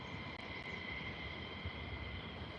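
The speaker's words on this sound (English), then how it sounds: "That is a very low flying KC-135 fuel tanker." A low-flying KC-135 refueling tanker passes near Mildenhall, heard as a faint, steady low engine drone with no talking.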